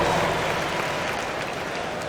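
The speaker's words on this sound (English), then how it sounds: "Let's have a round of applause." Crowd applause fills an arena in the NBA 2K25 basketball video game, a dense, steady wash of clapping and noise that slowly fades slightly over a couple of seconds.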